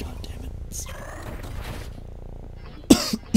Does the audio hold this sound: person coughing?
yes